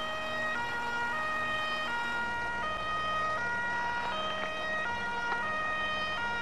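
Ambulance siren in the FireFighters 2014 game, a loud two-tone wail alternating steadily high and low over an engine rumble.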